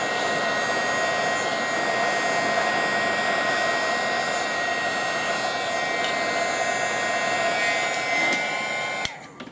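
A heat gun blows steadily while melting fusible webbing, a loud continuous whooshing roar that holds nearly unchanged for about nine seconds and then cuts off abruptly near the end.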